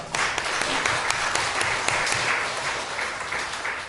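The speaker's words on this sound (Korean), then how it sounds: "하나님께 영광의 박수 올립니다" Congregation applauding during a Sunday morning church service in Ansan, a sustained crowd of clapping hands at moderate level, steady and unbroken for several seconds.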